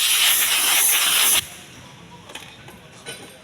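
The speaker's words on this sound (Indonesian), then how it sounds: "Bersihkan dengan udara bertekanan dengan cara yaitu semprot dari bagian dalam" Compressed air sprays through a vehicle air filter in a loud, steady hiss that cuts off abruptly, leaving faint bursts and background noise.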